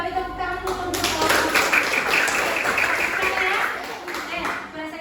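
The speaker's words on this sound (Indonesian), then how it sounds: "Oke, balik tepuk tangan dulu untuk" Students in a junior high school classroom clap for a group presentation, a dense and fairly loud burst of clapping lasting a few seconds, with some talking underneath.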